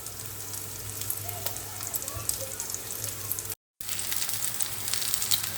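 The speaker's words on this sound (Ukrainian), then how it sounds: "Смажу ковбасу на вечерю." Sausage sizzles and crackles in a hot pan, a steady quiet frying hiss with small pops, briefly cutting out before resuming.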